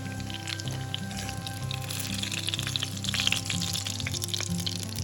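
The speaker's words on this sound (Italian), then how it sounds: "io friggo in olio extravergine di oliva" Calabrian eggplant balls with scamorza fry in hot extra virgin olive oil, giving a continuous, close, even sizzle with bubbling crackle and no speech.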